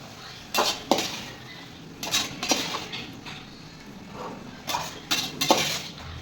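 A spoon clinks and scrapes against a metal pot in several short bursts as curd is mixed into vegetable biryani gravy, close and moderately loud over faint background noise.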